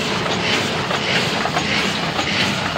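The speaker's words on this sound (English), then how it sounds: "This is a conveyor unit." The conveyor unit of an automatic die cutting machine runs a mat pad job at 6,400 sheets per hour, giving a steady, dense mechanical rattle and whir with no pauses.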